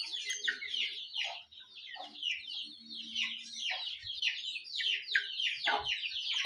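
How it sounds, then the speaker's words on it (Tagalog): Chickens on a farm cluck and chirp continuously in quick, overlapping calls, close by, with a few faint low sounds underneath. "yung mga manok palaging sumusunod ni Junjun"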